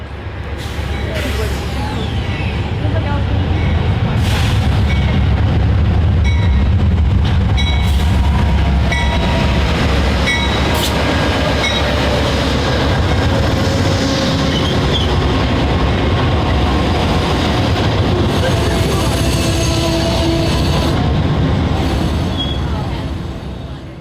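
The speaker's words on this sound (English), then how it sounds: "We boarded the early westbound train 351 at 7:40 a.m., which was pulled by 2" Loud, steady rumble of a westbound Amtrak Michigan line passenger train in snow, pulled by two P42DC locomotives, rolling along the rails with rhythmic clicks and squeals over a constant low roar; faint voices underneath.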